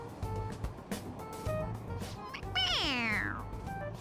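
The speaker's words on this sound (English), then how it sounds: "It meows when you press on its head." A toy cat in the video game Persona 5 Royal gives a single rising-and-falling electronic meow when its head is pressed, clear and close over low game background music.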